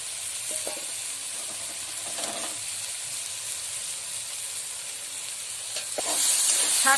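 Hilsa fish head and taro greens sautéing in a pan make a constant sizzling hiss with occasional stirring clatter, growing louder toward the end.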